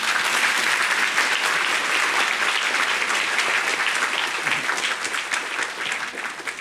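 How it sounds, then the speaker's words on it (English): Sustained applause from an audience at a special gathering with musical performers, dense and steady clapping filling the room for several seconds and tapering slightly toward the end, with no voices over it. "Another honoring round of applause."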